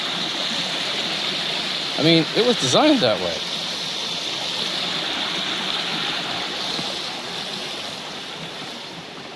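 A creek flows through a valley in the Oregon Coast Range with a steady, soft rush of water, and someone speaks briefly over it.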